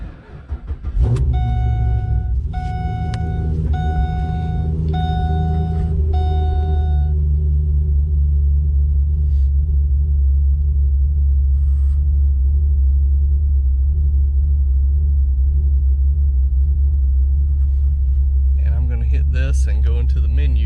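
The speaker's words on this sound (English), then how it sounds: "So now we will start the car up." A Pontiac G8's engine cranks and starts, then settles into a steady, deep rumbling idle while a dashboard chime beeps repeatedly near the start; soft clicks and a brief voice come near the end.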